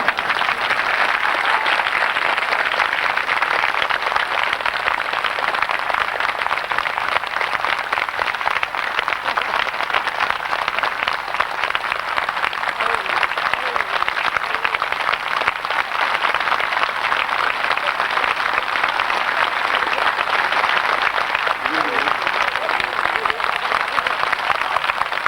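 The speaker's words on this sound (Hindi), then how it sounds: "आप मुस्कुराते हुए तालियां बजाइए" An audience at a 1998 Holi spiritual camp claps continuously, a dense, steady wash of applause that holds at an even level throughout.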